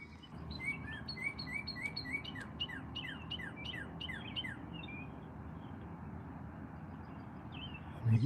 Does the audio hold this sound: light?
no